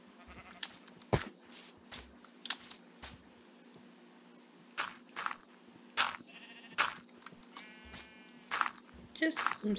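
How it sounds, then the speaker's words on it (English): Sheep bleat in a video game, several short separate calls spread among other in-game effects and brief thumps, with talk over some of it. "Kill sheep."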